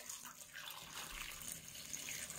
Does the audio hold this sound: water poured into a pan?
yes